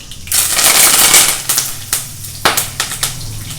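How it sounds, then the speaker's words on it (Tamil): Mustard seeds burst and splutter in hot oil in a pan while cooking a South Indian lunch, a loud crackling hiss followed by a series of sharp popping bursts, no voices. "இது வெடிச்சிட்டு கடுகு வெடிச்சிட்டு இல்லையா"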